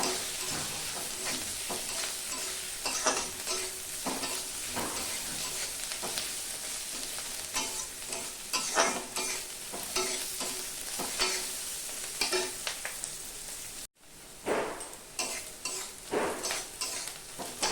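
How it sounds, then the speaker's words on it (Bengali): Chopped garlic, green chili and ginger fry together in hot oil with browned onion, sizzling steadily and loudly while a spatula stirs with repeated scraping strokes throughout; a brief break comes near the end before the sizzle resumes. "রসুন কুচি দিয়ে দিব, কাঁচা লঙ্কা কুচি দিয়ে দিব, আদা ছাটানো দিয়ে দিব, একসাথে ভেজে দেব"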